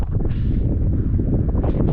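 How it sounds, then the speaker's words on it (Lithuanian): Strong Arctic wind in Svalbard buffets the microphone in a loud, steady roar with low rumbling gusts. "Visą kelią vėjas pučia."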